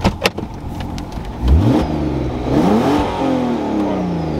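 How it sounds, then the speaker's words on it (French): A 2006 Audi A3 3.2 V6 Quattro engine revs up loudly nearby, its pitch climbing in a couple of surges after a few short clunks. "On est sur une voiture qui fait quand même un très beau bruit de diesel."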